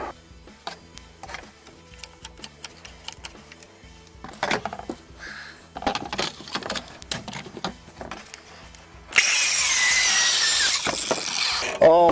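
A power saw with a freshly changed blade rips through a board near the end, a loud, dense, steady cutting roar lasting about two seconds, preceded by clattering handling and setup noises.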